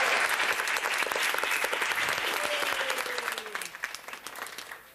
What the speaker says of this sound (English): let's have a nice round of applause for our birthday boy.